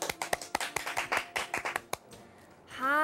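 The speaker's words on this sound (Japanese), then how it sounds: "拍手。" Studio clapping on a live Japanese weather broadcast, a quick run of sharp, close claps for about two seconds that stops cleanly, followed by a brief voice at the end.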